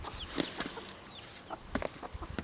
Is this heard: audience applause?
no